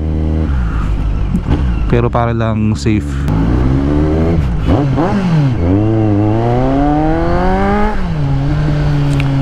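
A motorcycle with a loud aftermarket exhaust revs and accelerates up and down through sweeping engine tones, very loud and close, while someone speaks briefly over it.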